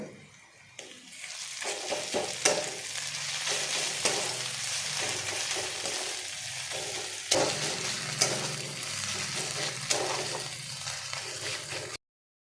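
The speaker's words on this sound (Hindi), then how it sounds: "ये आम अदा रसुन को मिक्स करूँ भल भाव।" Ginger-garlic paste stirred and frying in a hot pan for a Bengali-style chicken curry, a steady close sizzle with repeated scraping stir strokes throughout, no talking.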